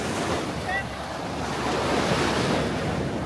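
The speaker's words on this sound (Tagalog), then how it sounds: "ang lakas ng alon" Strong ocean surf roars steadily at a beach in Cabangan, Zambales, with wind buffeting the microphone and no break in the churning wash of waves.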